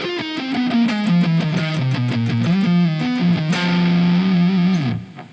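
An electric guitar with heavy distortion plays a solo: a fast run of picked notes stepping down and back up, a held bent note, then a final sustained tone cut off abruptly, loud and alone.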